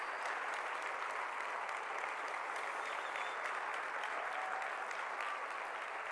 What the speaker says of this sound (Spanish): gracias a todos por los aplausos